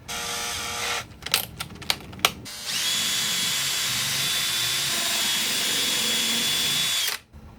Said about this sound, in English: drill a 5 32nd inch hole right here